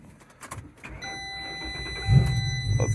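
A Ford Crown Victoria fitted with a 5.4 throttle body and still running rough cranks and catches, a low engine rumble rising after a steady electronic chime, heard up close.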